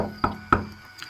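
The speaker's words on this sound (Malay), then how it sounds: "pintu bilik air itu diketuk-ketuk lagi berulang kali" Repeated knocking on a bathroom door, two sharp knocks close together followed by a fainter third, fairly quiet against a steady low background hum.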